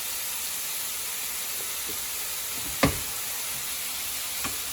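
Mushrooms frying in oil in a pan make a continuous, even hiss and sizzle, broken by a couple of light clinks, with nobody speaking.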